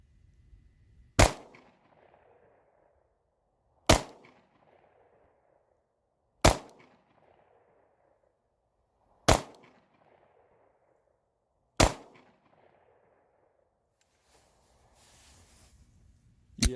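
A PSA Dagger 9mm pistol fires six loud, sharp shots, spaced about two and a half seconds apart, each followed by a brief echoing tail outdoors.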